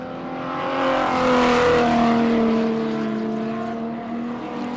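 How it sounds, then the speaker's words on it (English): A BMW stock car races on an oval circuit, its engine note loud and close, rising as it approaches and passes, then fading away while other cars rumble in the background. "Listen to that BMW."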